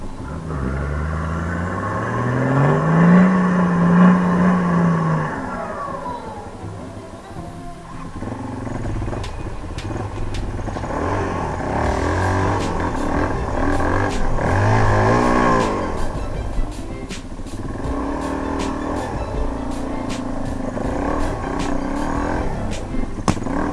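Four-wheel drives churning through muddy ruts in Toolangi forest: engines rev, rise and fall in a loud, rumbling drone for over twenty seconds, with bursts of straining acceleration and rattling.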